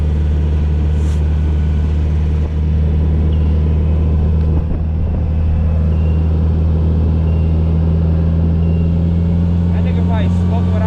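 A Polaris Slingshot SL rolls along on a cold day, its engine and road noise a loud, steady low rumble with a droning hum, recorded close up while riding, with brief faint sounds over the top.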